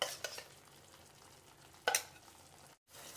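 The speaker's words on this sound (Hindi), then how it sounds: "ये देखिए मसाला मेरे अच्छे से भून रही है" Spice masala with oil and yogurt frying in a pan for a mushroom ghee roast, a quiet steady sizzle with stirring scrapes, one louder scrape near the middle and a brief silent cut near the end.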